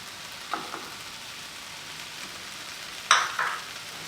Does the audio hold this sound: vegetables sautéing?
yes